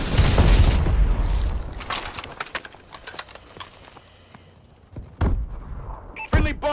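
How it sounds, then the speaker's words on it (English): Missile strikes and a bombing run in Call of Duty: Advanced Warfare, beginning with a loud burst of explosions and gunfire that trails into scattered booms and crackles, with a couple of fresh sharp blasts near the end. "Friendly bombing run clearing the way."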